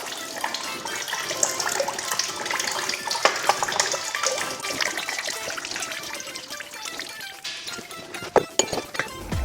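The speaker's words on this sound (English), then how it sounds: "I'm just going to let some of the oil drip out down through the chute here prior to removing the oil filter completely." Engine oil from a Jeep Grand Cherokee SRT oil filter drips down through a chute, giving a continuous close trickling and splashing with occasional small clinks and taps.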